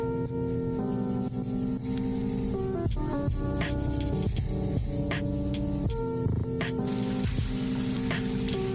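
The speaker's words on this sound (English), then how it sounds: "I like to go in with my baking soda and water mixture that I like to put on my toothbrush to scrub at the doll with" A toothbrush scrubs a 1964 Allan doll with a baking soda and water mixture, giving repeated close rubbing strokes over a steady bed of background music.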